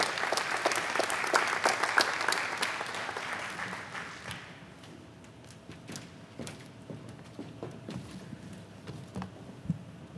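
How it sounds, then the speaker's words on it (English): Audience applause for health careers graduates at a 2021 commencement, a dense burst of clapping for about four seconds, then dwindling to scattered claps and faint room noise. "Please give all of these students a collective round of applause for their achievement."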